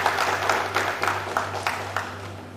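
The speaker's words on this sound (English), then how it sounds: "let us give him a big round of applause" An audience at a welcome ceremony gives a modest round of applause, loosely rhythmic clapping in a hall over a low electrical hum, fading slightly as it goes.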